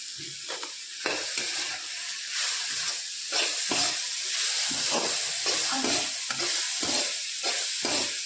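Panch phoron spices sizzle and crackle in hot oil, a continuous close frying hiss broken by repeated scraping stirs of a ladle across the pan, with no talk.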